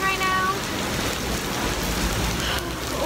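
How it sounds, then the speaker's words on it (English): Steady rain falls throughout on a city street in New York, a continuous broadband hiss with no breaks, with faint voices and background noise mixed in. "It's raining right now."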